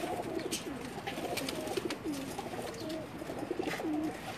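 Pigeons coo repeatedly in a rooftop loft in Jeddah, Saudi Arabia, with soft rolling calls overlapping against a steady background hum.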